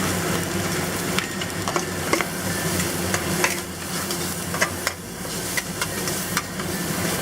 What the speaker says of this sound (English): We'll give the onions a quick saute.